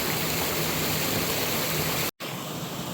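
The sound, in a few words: small waterfall at top of a creek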